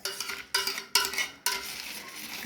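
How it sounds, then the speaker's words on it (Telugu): Kamadhenu instant junnu powder being stirred into half a litre of milk in a bowl, with four scraping bursts of spoon against the vessel in a steady rhythm, close and fairly loud, no voices. "జున్ను పౌడర్ వేసి కలుపుకుంటా."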